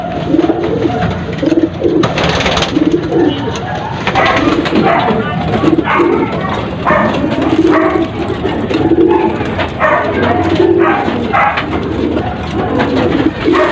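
Pigeons coo repeatedly in low, throaty phrases, close and loud, with a voice speaking over the birds at times.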